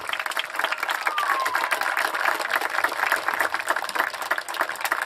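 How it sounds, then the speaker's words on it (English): A crowd at a high school soccer senior night claps steadily for the seniors, a dense wash of applause with scattered cheers that holds level for the whole stretch, with no talk over it. "everybody will give a big round of applause for all of our seniors"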